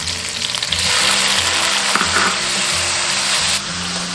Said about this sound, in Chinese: 锅中倒食用油，接着下入葱姜蒜炒香。 炒香以后下入番茄